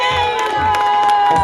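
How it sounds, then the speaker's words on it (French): A crowd cheers and shouts, children among them, with a bright sustained tone ringing through the loud, lively noise and scattered claps. "On applaudit."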